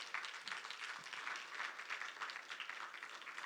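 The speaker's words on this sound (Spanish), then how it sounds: "Si le va a dar un aplauso al Señor, déselo por favor en esta mañana." A church congregation applauds on a Sunday morning, a steady wash of many hands clapping, moderately distant and even throughout.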